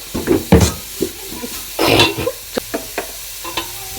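Cabbage sizzles in a hot pan while a utensil scrapes and stirs in irregular bursts, with sharp clanks against the pan, loud and close.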